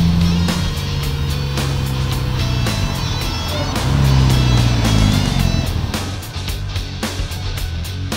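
A 2019 Polaris Slingshot Grand Touring's exhaust drones loudly and steadily while driving, with the engine rising and falling in pitch and wind rushing over the open cabin.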